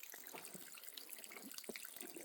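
Water trickles steadily from a leaf pressed into a trail spring as a makeshift spigot, a faint, continuous splashing with small drips, alone and close by.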